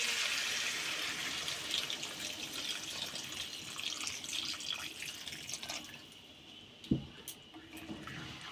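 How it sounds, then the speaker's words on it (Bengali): Water poured into a pot of chicken and potato curry, a continuous close splashing and trickling stream that thins out near the end, followed by a faint clink. "এবারে পরিমাণ মতো জল দিয়ে দেব।"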